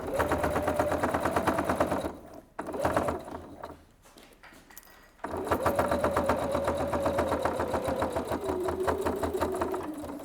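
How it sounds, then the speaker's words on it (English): A sewing machine stitches through several fabric layers, a fast, loud, close mechanical whir that drops out briefly mid-run, then resumes and strains slightly as the load shifts. "You can see it gets noisier the more layers you're going through because the machine's having to work a little bit harder"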